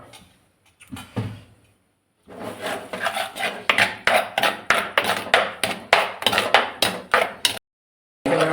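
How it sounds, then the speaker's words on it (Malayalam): Cooked dal being mashed in a metal pot, a quick run of sharp, evenly spaced knocks and scrapes of a utensil against the pot, close and fairly loud, starting after a brief pause and ending abruptly with no talking. "പരിപ്പൊക്കെ നല്ലപോലെ വെന്ത് വന്നിട്ടുണ്ടെങ്കിൽ നമുക്ക് ഇനി ഉടച്ചെടുക്കാം."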